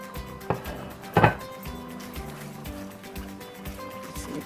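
A spoon stirs sauteed vegetables into a coconut cream sauce for a shrimp dish, giving soft wet clinks and scrapes against the pan with a couple of sharper knocks.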